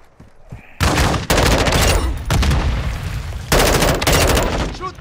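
Dense bursts of rapid gunfire from a multiplayer shooter game set in Al Mazra, loud and sustained in several long volleys with short gaps, a voice briefly shouting underneath.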